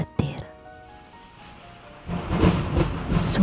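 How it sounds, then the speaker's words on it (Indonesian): Heavy rain with a thunder sound effect: a sharp crack early on, a quiet stretch, then dense, loud rainfall with rumbling from about two seconds in. "hujan turun cukup lebat dan juga disertai petir"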